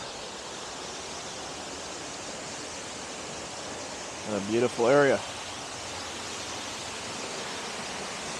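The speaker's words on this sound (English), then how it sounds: "Here's the uh, waterfall." Close by, a waterfall sends out a steady broadband rush of falling water that holds level throughout, with a brief spoken remark in the middle.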